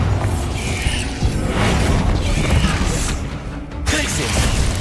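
Bombarda blasting spell explosions amid Hogwarts Legacy combat, repeated loud booms and crashing impacts over a continuous low rumble, with a sharp burst near the end and voices woven through.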